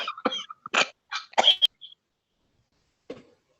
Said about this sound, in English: I heard someone coughing.